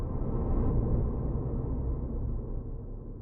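A rendered sound effect with all plugins applied, heard as a loud, dense low-weighted reverb tail that swells from the start and decays gradually over a few seconds, alone with no talk.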